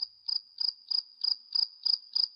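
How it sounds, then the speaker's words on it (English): Grasshopper chirping in a fable setting: a steady high whine broken by eight regular, evenly spaced pulsing chirps, close and clear with no voices. "the louder the grasshopper chirped"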